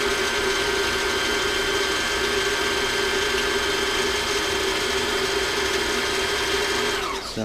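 Sewing machine motor steadily winding thread onto the bobbin, a continuous whirring mechanical drone with a faint ratcheting texture, close and even throughout before stopping abruptly at the end.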